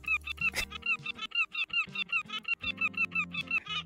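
Cartoonish bird honks from a seagull in the Tiny Bookshop video game, a rapid run of squawking calls that repeats steadily over several seconds, loud and close, with faint game music beneath.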